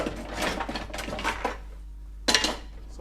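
A small teaspoon is sorted out from among kitchen utensils, with soft, repeated rattling and clinking of cutlery for about a second and a half, then a short, sharper metallic clatter after a pause.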